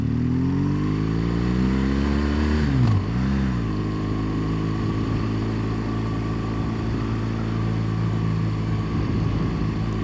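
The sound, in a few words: motorcycle riding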